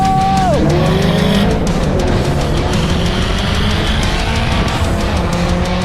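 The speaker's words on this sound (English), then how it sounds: "taking the passenger seat in James's Turbo V8 Commodore and Daniel's LS-powered S15 for a few runs" Loud tire squeal from a tuned performance car, either a turbo V8 Holden Commodore or an LS V8-powered Nissan S15, on a fast run. A rising squeal sits over a constant roaring engine and road noise that continues to the end.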